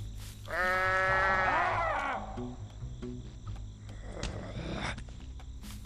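A goat in Goat Simulator lets out a loud, wavering bleat lasting over a second, followed by quieter game sounds and a fainter rough cry near the end.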